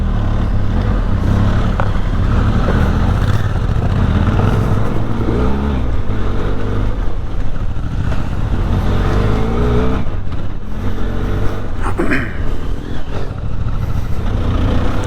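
Benelli TRK 502X motorcycle ridden off-road on an enduro training course in Austria, its engine droning loud and close throughout with steady throttle and wind noise, shifting up into second gear.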